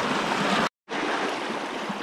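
A small forest stream flows with a steady broadband rush of water, close and continuous, briefly cut to silence for a moment before resuming.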